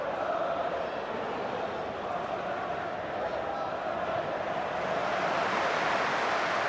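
A football stadium crowd at a Premier League match between Manchester United and Bolton gives a warm, sustained wash of applause and murmuring, with a commentator talking over it throughout.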